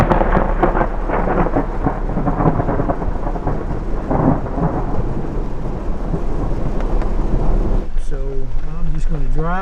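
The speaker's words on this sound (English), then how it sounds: "Here comes the rain" Heavy rain and thunder rumble around a vehicle driving through a wicked New Mexico backcountry storm, a steady loud downpour with low booms; a voice speaks briefly near the end.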